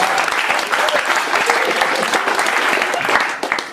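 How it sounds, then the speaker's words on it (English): Steady applause from a literary-reading audience in honour of a writer, dense and continuous for nearly four seconds before tapering at the end. "So let's clap for Chris."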